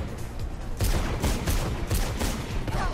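Rapid bursts of gunfire in Mirror's Edge, a dense, loud rattle of overlapping shots lasting the whole few seconds with no talking.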